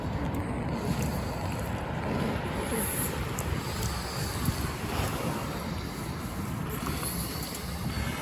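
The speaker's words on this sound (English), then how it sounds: "It's windy as well, as you can see by the camera wobbling about in the wind." Strong wind buffets an outdoor tent camp on a cold, stormy day, a continuous loud roar and rumble of gusts hitting the microphone with no let-up, steady throughout without clear speech.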